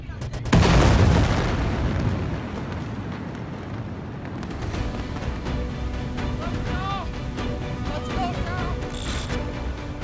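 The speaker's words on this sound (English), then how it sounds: "Just when you think the explosion can't get any bigger, there's another explosion." Massive detonation at the Tianjin port: a sudden, loud blast swells into a deep, roaring rumble that rolls on continuously with crackling debris, heard from a distance.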